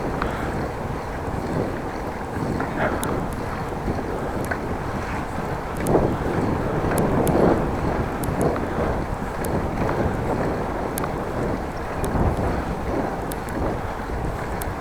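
Headwind buffeting a microphone during a bike ride through the countryside near Groningen in the Netherlands: a loud, constant, rumbling roar of wind that swells now and then, with no talking.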